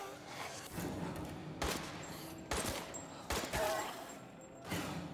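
Several sharp pistol shots ring out at irregular intervals in Resident Evil Village, fairly faint against a low ambient game backdrop.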